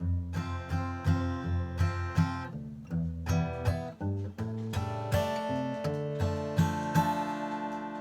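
Plucked acoustic guitar notes ring out one after another in a steady picking pattern, with open strings sustaining and a few strummed chords, no talking.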